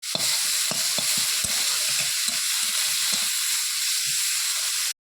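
Prawn heads coated in salt and turmeric frying in a pan with whole garlic, a steady loud sizzle with clicks and taps of stirring throughout, cutting off abruptly at the end.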